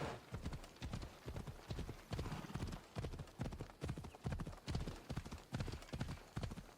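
Horse hooves clip-clopping in Assassin's Creed Odyssey, a steady rhythmic trot of sharp hoof beats throughout, close and clear with no talk over it.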